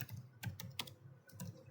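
Typing on a computer keyboard, a quick irregular run of about eight crisp key clicks, close and fairly quiet with no talking.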